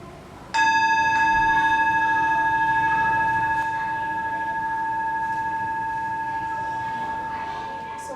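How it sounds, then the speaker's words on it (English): A mindfulness bell is struck once, giving a clear, bright ring with a long sustained resonance that slowly fades over several seconds, alone against a quiet room. "Today, we can try to invite the bell"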